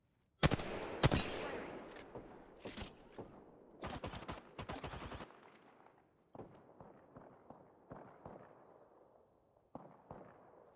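Gunfire in Apex Legends: loud, sharp bursts of shots up close at first, then scattered, quieter volleys and single cracks trailing off further away.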